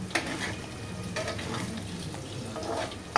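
Chicken and egg mixture frying in a pan while it is stirred, giving a steady close sizzle with scraping stir strokes and a sharp clack near the end, no talking.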